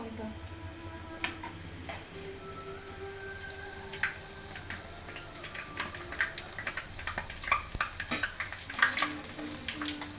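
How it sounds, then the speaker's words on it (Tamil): Gobi manchurian frying in a pan is stirred, with a steady soft sizzle under clustered scraping and tapping strokes that grow busier toward the end, close and moderately quiet, with a voice faintly present. "வேகிற வரைக்கும் இந்த மாதிரி கொஞ்சம் திருப்பி விடுங்க"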